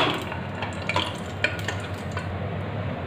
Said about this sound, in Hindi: अब इसमें हम इसी तेल में अब हम मसाला भून लेंगे